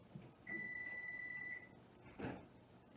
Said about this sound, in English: It's saying it's ready. That beeping sound.